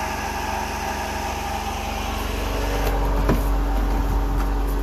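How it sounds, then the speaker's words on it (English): A Honda Acty HA4 mini truck engine idling high while cold, a steady close buzzing drone that lifts slightly in pitch partway through, with no voices. "They start up high like this. And then once it warms up, it'll come back down on the idle."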